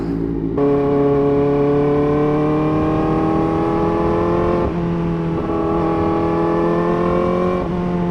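A Kawasaki ZX-4RR motorcycle engine pulls hard through the gears, pitch climbing steadily then dropping at each shift, loud and close with intake and exhaust roar.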